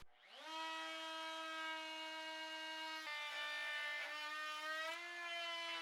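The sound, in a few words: Dewalt 2 1/4 HP router cutting hard maple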